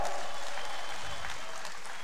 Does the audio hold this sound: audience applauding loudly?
yes